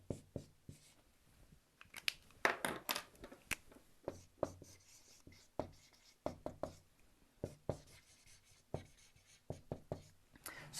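Pen or marker writing in blue on a board, a steady run of sharp scratching strokes and taps, close and quiet, with no voice over it.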